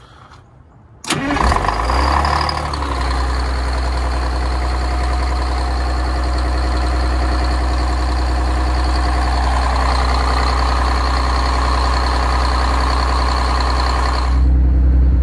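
A 1982 Detroit diesel generator cranks briefly, then catches and settles into a loud, steady low-pitched idle that runs continuously, swelling slightly louder right at the end.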